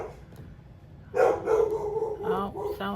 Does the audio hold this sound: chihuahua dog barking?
yes